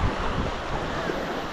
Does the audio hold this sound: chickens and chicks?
no